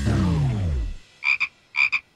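A cartoon frog in an animated children's show gives two croaks, each a pair of quick throaty pulses. They are loud and close and come right after a falling whoosh, with no talking over them.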